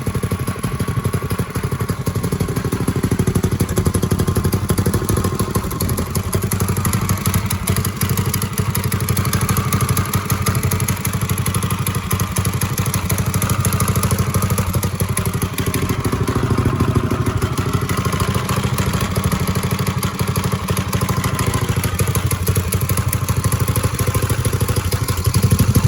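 A 1970 Bird minibike engine runs steadily and loudly up close, a continuous buzzing drone with rattling clatter and slight shifts in pace, alone without talk throughout.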